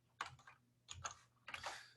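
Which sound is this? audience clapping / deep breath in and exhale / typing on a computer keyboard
typing on a computer keyboard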